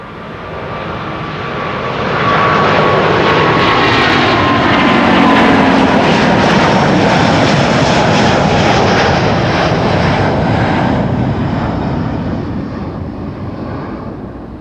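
A ten-year-old airliner passes at Amsterdam Schiphol Airport, its engine roar swelling loudly, holding strong for several seconds, then slowly fading.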